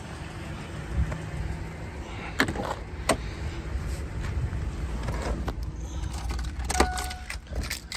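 Car keys with two keyless remotes for a 1997 Pontiac Firebird convertible jangling: light metallic clinks and rattles in short bursts, close and fairly quiet, over a steady low background hum.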